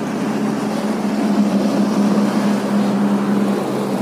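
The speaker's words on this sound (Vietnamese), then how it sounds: "gần như chỉ nghe tiếng hơi hơi của tiếng máy thôi" A 2010 Chevrolet Cruze LTZ with a 1.8 engine and automatic gearbox idles, heard from outside the car: a low, steady, quiet hum that runs unbroken throughout, with no voices.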